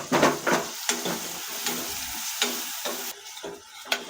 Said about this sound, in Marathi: आता आपण टोमॅटो चांगला थोडा वेळ परतून घेऊ